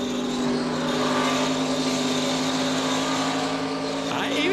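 In-car sound from Kyle Busch's NASCAR Xfinity Series race car at Charlotte Motor Speedway: a loud, steady engine drone at high revs, continuous and close, with a faint voice mixed underneath.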